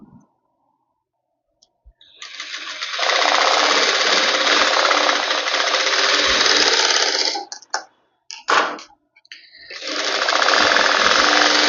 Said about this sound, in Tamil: இந்த இடத்துல வந்து இப்படி ஸ்ட்ரைட்டாக ஸ்டிச் பண்ணிக்கோங்க